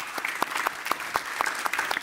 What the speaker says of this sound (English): let's give a warm round of applause for our panelists